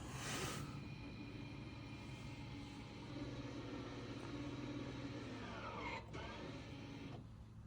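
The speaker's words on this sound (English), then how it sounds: "There you go, so you hear the calipers winding back out again." Rear brake calipers on a Nissan Qashqai J11 wind back out after a pad change, a steady motorized whirr over engine hum that runs for several seconds before stopping.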